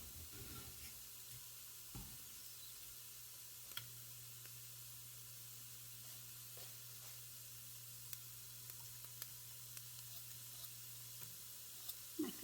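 Chopped garlic sizzling in a hot pan while chicken and rice soup is being made, a faint, steady frying hiss under a low kitchen hum, with a few soft knocks and stirring sounds.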